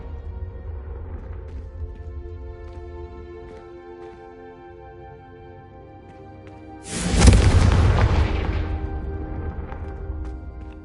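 Confringo fire spell in Hogwarts Legacy: after low, droning background tones, a sudden loud fiery whoosh and boom bursts out and then tails off over a few seconds.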